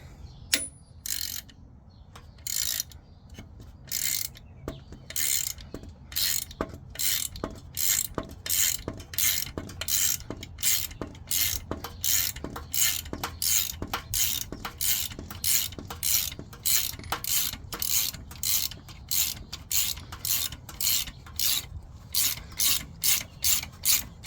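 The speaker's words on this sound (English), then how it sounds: "you want to tighten these nuts. And then with a 13 millimeter, I believe it is, socket" A 13 or 12 millimeter socket on a ratchet wrench tightens nuts on a puller fitted to a Hemi crank pulley, a close, rapid train of clicking strokes repeating steadily for the whole stretch, with no talking.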